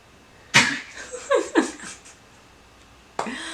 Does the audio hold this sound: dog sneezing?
yes